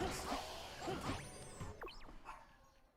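A dog barking upstairs in a house, a few short muffled yips and barks heard at a distance through the ceiling, mixed with game sound effects in the room.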